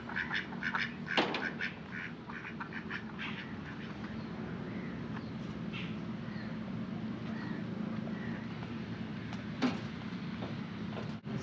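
Farm ducks in a Punjabi village quack steadily at close range, with repeated overlapping calls over a constant low rumble through the evening.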